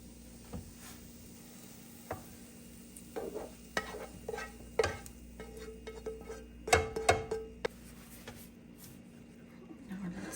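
Bacon, fried onions and strained cabbage are mixed together in a pan taken off the heat, giving sporadic scraping and clattering stirs with a faint sizzle, under and between quiet talk.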